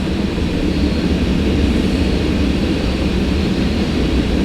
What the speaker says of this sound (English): The train started going by.